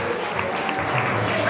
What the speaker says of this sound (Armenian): ծափեր տվեք որ հավատանք